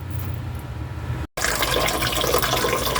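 Tap water runs and splashes steadily while vegetables such as tomatoes and greens are rinsed, with a brief break before the flow resumes louder and brighter.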